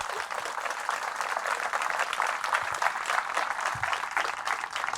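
A church congregation applauds at a Mass, a steady, busy wash of many hands clapping at moderate distance, with no voices on top.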